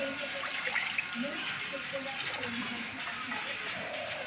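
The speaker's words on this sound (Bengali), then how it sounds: "এবারে কড়াইতে দিয়ে দেবো জল" Water poured into a wok in a home kitchen makes a steady, fairly soft splashing gush running throughout, with a voice talking over it.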